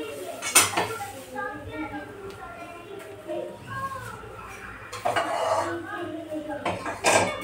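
Cumin, coriander and other spice powders roast in a little oil in a pan for puffed-rice chivda, heard as clinks and scrapes of a spoon against the pan with faint sizzling, under intermittent talk.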